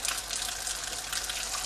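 Cold water runs steadily from a kitchen faucet into a sink for rinsing beans, a soft continuous hiss that stays even and close, with no voices.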